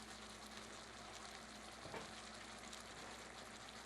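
Caramelized sugar sauce poured into a pot of Cambodian ginger chicken, a constant soft frying sizzle with a slight swell midway, steady and close.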